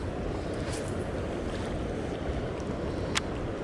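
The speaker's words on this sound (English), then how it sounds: "We're under the spillway now." Water rushes below a flooded Mississippi River spillway, a steady broad roar with wind buffeting the microphone and no voices.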